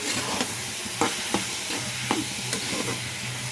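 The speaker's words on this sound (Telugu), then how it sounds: "ఉప్పు పసుపు వేస్తే ఉల్లిపాయ తొందరగా మగ్గుద్ది" Sliced onions with salt and turmeric sizzle steadily in a pan for a drumstick tamarind stew, with a constant frying hiss and occasional spatula scrapes and taps, heard close and without speech.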